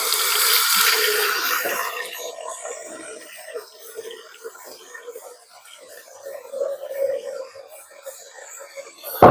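Tap water runs into a bowl while chapati dough is made, a steady hiss that is louder at the start and then eases into a softer trickle and splash, close by, with a quiet voice under it.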